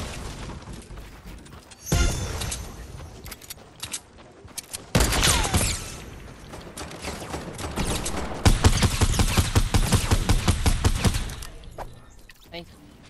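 Fortnite gunfire in heavy bursts of rapid automatic shots, with loud sustained firing stretches, some breaking-glass-like crashes, and players talking over the action.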